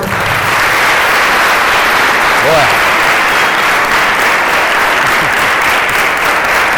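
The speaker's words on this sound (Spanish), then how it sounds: "le vamos a dar la bienvenida con un fuerte aplauso" A school audience gives a loud, continuous round of applause welcoming a historian, the dense clapping filling the room throughout, with a brief voice heard faintly amid it.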